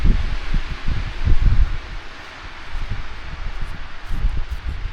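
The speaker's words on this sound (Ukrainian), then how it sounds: "Ми захищаємось від вітру. Вітер страшенний." Strong mountain wind gusts buffet the microphone with low rumbling and rustling, rising and falling steadily throughout, with no voices.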